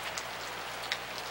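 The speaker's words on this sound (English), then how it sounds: "This paper is getting kind of wet in the drizzly rain." Light drizzling rain patters steadily outdoors on a December day, a soft continuous hiss with a few faint distinct drops, no voices.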